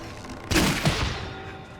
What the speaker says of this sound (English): A simple ranger ability would be something like overcharging your shot, which basically feels like you're shooting from a sniper rifle.